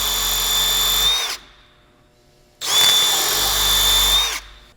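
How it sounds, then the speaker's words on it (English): A power drill whines at high speed in two bursts, each lasting over a second, drilling through a tire at a nail hole, separated by a brief quiet pause; loud and close. "I'm going to drill it through."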